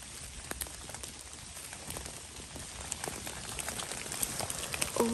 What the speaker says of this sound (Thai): โอ้ฝนจ๋า